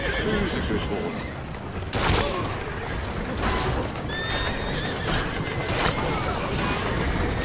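A horse in Assassin's Creed Syndicate whinnies amid steady clip-clop hoofbeats on a Victorian London street, with sharp impacts and background game ambience layered around it.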